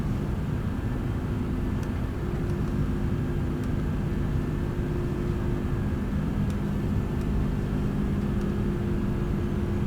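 Airliner engines in Microsoft Flight Simulator 2020 during a takeoff roll, a loud constant rumbling drone that holds steady throughout, with no talk over it.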